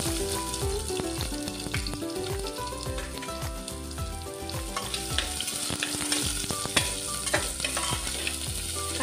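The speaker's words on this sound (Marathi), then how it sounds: "कांदा आता आपला चांगला परतून झाला" Sliced onion with cloves, black pepper and cinnamon fries in a pan for chicken soup, giving a loud, steady sizzle with frequent stirring scrapes and clinks throughout.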